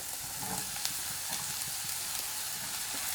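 Chopped onions frying in a pan for chicken samosa filling give a steady, soft, even sizzle with faint stirring taps, low and continuous throughout.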